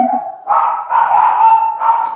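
Several dogs bark angrily in a loud, continuous volley of overlapping barks close by, with no talk over them.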